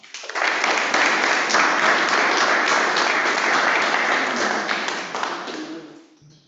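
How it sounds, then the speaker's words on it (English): Audience applause in a hall welcoming Katherine Nikidis at an arts-in-education talk: dense, steady clapping from many hands, loud and close, sustained for about six seconds before thinning and fading out. "Let's have a warm round of applause for Katherine Nikidis"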